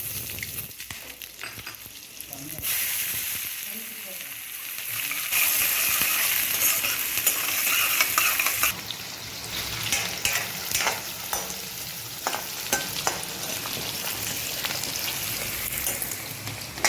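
Arbi (taro root) pieces sizzle in hot oil in a pan with whole spices, a close, crackling fry that swells louder partway through as more goes in and keeps spattering steadily, with occasional stirring scrapes.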